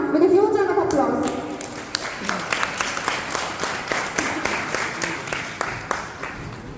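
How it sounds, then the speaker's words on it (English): An indoor audience applauds to welcome a speaker, steady clapping from a room full of people running on after a voice briefly rises at the start. "We welcome her, ma'am, with a huge round of applause."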